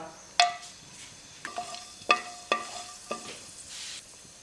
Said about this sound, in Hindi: जिस ऑयल के अंदर हमने प्याज को फ्राई किया था उसी के अंदर ये कुछ साबुत मसाले ऐड कर रही हूँ।